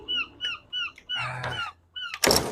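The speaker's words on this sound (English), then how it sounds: "shut the door" A loft door at a pigeon racing loft thuds shut with a single close impact near the end, preceded by repeated bird calls and chirps nearby.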